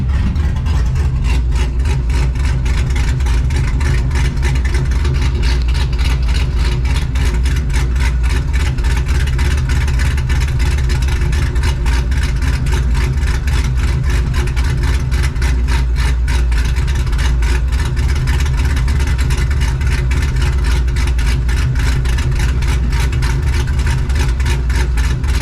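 An iron-block 6.2L LS3 V8 idles with a single-exit exhaust, a loud, steady, deep rumble with an even pulsing lope that holds unchanged for the whole stretch, no voices over it.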